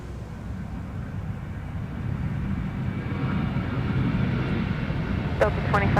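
An American Airlines airliner taking off at Minneapolis–St. Paul Airport, a broad distant engine roar swelling steadily as it departs, with faint radio-like chirps near the end.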